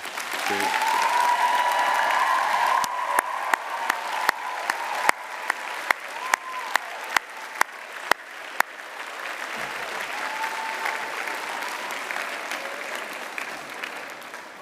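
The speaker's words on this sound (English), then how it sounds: "give them a round of applause to thank them for everything they've done" Graduating students of London College of Fashion at a UAL ceremony applaud their loved ones, long sustained crowd clapping with sharp individual claps standing out, continuing steadily beneath a murmur of voices.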